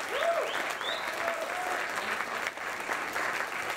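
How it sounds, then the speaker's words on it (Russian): Audience applause at a jazz concert: a dense, continuous wash of clapping from a crowd, with a couple of brief whoops riding on top early on. "А каждый номер встречали бурными аплодисментами."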